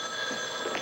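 A telephone rings briefly, a steady electronic warble sounding near and fairly clear over a faint background hum, with no talk.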